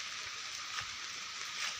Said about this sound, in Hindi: झिपिर झिपिर वर्षा होचे